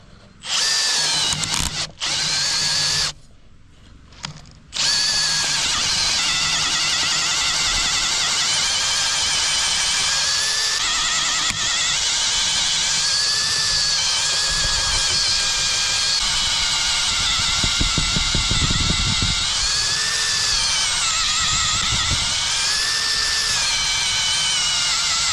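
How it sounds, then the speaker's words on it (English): A power drill whirs steadily and loudly while boring two holes in the wooden frame of a village swing being built outdoors. It runs almost without pause after a few short stop-start bursts, and no one talks. "And this thing drills pretty well"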